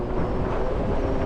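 Strong outdoor wind buffets the microphone during a long-range test, producing a loud, continuous low-frequency roar with no other distinct sounds.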